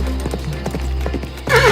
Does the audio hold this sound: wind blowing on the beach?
no